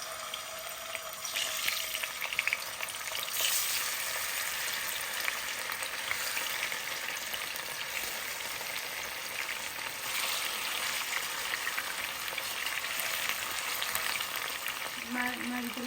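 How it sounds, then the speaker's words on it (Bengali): Fish pieces fry in hot oil in a pan, a steady loud sizzle that continues without a break, with faint clinks and movement mixed in. "মাছগুলো ভাজা হওয়া পর্যন্ত আমি অপেক্ষা করব।"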